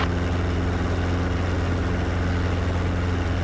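A training helicopter runs close by on a taxiway, a loud, steady rotor and engine drone with a constant low hum and no break.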